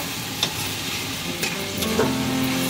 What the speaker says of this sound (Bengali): এখন আমি এটা একটু ভালোভাবে কষিয়ে নেব।